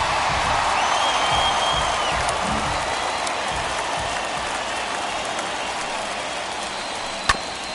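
A stadium crowd in the baseball video game MLB The Show 21 keeps up a steady roar of cheering and applause through a postseason game, with a sharp crack near the end.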